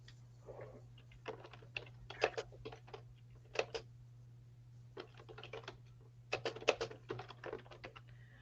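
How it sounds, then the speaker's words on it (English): Fast typing on a noisy, clicky computer keyboard, close up, in irregular bursts of rapid clacks separated by short pauses, over a steady low electrical hum. "So I'm sorry about the noise if you hear me typing."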